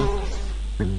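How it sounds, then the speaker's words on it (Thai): Housefly buzzing in a VR video game, a close, loud, steady hum that wavers slightly and then sharpens briefly near the end. "มีแมลงวันด้วย"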